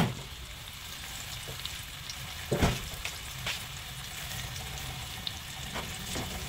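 Shiitake mushrooms with onion fry in a pan ahead of sliced chicken, giving a steady soft sizzle throughout with a few sharper crackles and one louder spatter midway, no voices.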